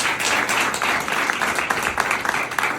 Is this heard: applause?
yes